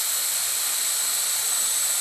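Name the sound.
Blade mQX quadcopter flying indoors in kitchen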